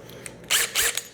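A power drill bores briefly into a wooden board backed by scrap wood, two short whirring bursts close by after faint clicks.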